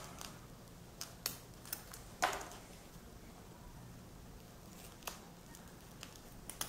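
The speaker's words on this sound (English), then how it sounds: "I'm going to go ahead and cut them into 1-inch strips" Scissors cutting hook-and-loop fastener into 1-inch strips, a series of quiet, sharp snips spaced irregularly, with one louder crunchy cut, all close and soft against a faint background.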